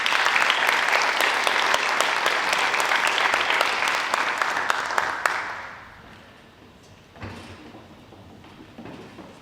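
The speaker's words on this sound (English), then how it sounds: "Give them a round of applause." Loud, dense applause from an audience at a high school annual awards assembly fills the hall for about five seconds, then fades to quiet room tone with a brief thump.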